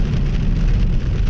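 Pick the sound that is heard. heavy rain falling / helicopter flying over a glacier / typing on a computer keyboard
heavy rain falling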